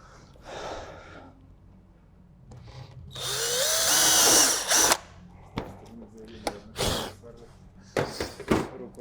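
Power drill boring a hole in a metal fence accessory, with a loud high whine lasting a couple of seconds, then handling knocks and clatter and short bursts of voice nearby.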